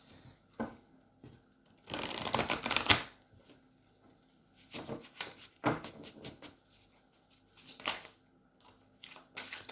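Tarot cards are shuffled close by in quiet surroundings, with several bursts of riffling and rapid flicking separated by short pauses and softer handling noises.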